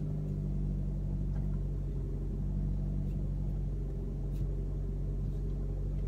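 Steady interior engine drone and road rumble from a 2015 Dodge Dart GT car driving, a continuous low hum with no talk over it.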